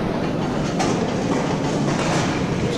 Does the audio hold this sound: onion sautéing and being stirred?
no